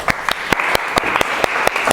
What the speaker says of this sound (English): let's give a round of applause for Morné.